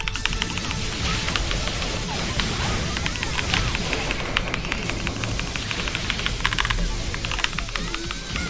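Rapid clacking keystrokes on a Rexus Legionnaire mechanical keyboard with brown switches, dense and close, over a noisy background.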